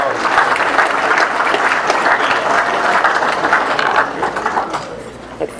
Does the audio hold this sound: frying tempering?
no